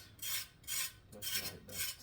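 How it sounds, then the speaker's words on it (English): A knife scraping the skin off a raw carrot, four rhythmic rasping strokes close up with short pauses between them, no talking. "I don't peel the carrot, I just scrape it"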